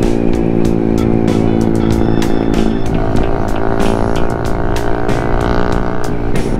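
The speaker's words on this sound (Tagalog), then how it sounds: "Lakas ng muffler niya." Loud motorcycle exhaust from a carbureted Raider 150 while riding, a steady, throaty engine drone with harmonic rumble and no break, close and dominant throughout.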